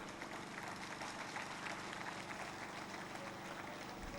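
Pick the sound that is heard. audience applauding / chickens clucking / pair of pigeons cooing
audience applauding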